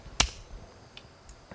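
One sharp, crisp hand clap on cue at a camping outing, close and brief, followed by faint small noises.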